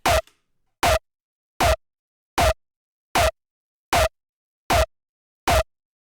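Eight layered kick punch hits with a distortion effect land one after another at an even pace, each a short, hard, full-bodied thump with a gritty top, separated by clean silence.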